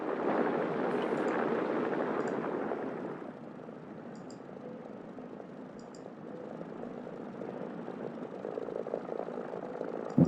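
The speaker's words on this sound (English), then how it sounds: "I need to turn down my engine." Aircraft engine in the War Thunder video game runs at a steady drone, louder for the first few seconds and then throttled down to a quieter, even hum with no talking.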